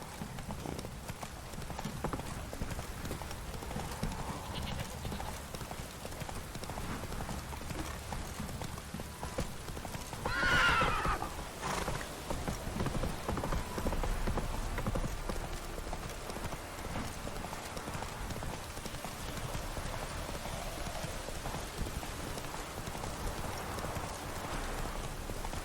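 Roach, a horse in The Witcher 3, gallops with steady rhythmic hoofbeats under a soft wash of rain, with a brief sharp cry partway through.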